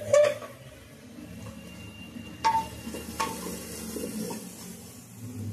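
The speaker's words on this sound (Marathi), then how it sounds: "बघा आता हा आपला पुलावचा हा संपूर्ण मसाला चांगला फ्राय झालेला आहे" Pulao spice masala fries in a pan with a low steady sizzle, broken by a few sharp clinks and scrapes of a spoon against the pan, close and moderately loud.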